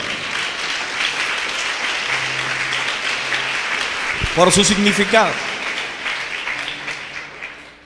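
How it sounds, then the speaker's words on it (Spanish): A church congregation applauds steadily throughout as a broad, continuous wash of clapping, while a preacher speaks briefly over it partway through. "Denle un aplauso fuerte al Señor."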